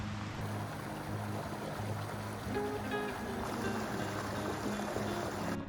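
Blodgett Creek runs past a giant boulder in Blodgett Canyon, partly frozen over, giving a steady, close rushing wash of water that never lets up.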